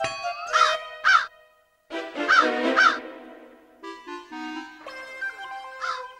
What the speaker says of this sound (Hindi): ये कौवा कैसे काव काव कर रहा है